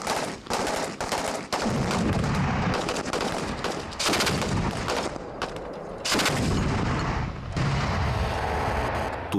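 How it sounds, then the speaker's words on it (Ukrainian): Rapid, relentless gunfire cracks and booms in overlapping bursts at a military firing range, volleys of shots continuing almost without pause. "Звуки пострілів не вщухають на військовому стрільбищі."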